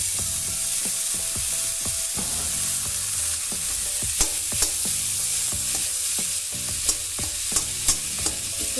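Potato filling for aloo samosa frying in a kadhai, with a steady broadband sizzle and repeated sharp scraping knocks of a spoon stirring and breaking up the potatoes, close and alone without talk.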